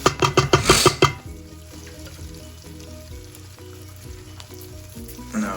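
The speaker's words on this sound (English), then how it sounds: "Now I put a little bit of red wine and some broth. See, now all the bottom is deglazed" Red wine and broth poured into a hot Instant Pot to deglaze the bottom over onions, starting with a loud burst of sizzling for about a second, then settling into a steady bubbling simmer close by.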